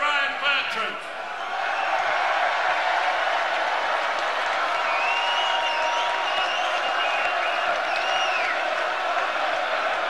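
A large open-air crowd at Chelsea's 2012 Champions League victory parade sings Ryan Bertrand's name, a continuous massed roar with whistles and chanting carrying across the street, while a nearby voice talks over it.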